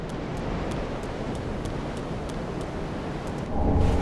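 A stormy outdoor scene in the video game Dark Souls III: a steady wash of wind and rain-like rumble with faint intermittent crackles, then a deeper, louder rumble of thunder swelling at the end.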